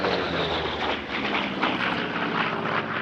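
A WW2 warbird, the P-47 Thunderbolt 'Nellie B', flies at the Duxford summer airshow, its propeller engine making a steady, broad, continuous drone heard from a distance with faint wind noise and no talk.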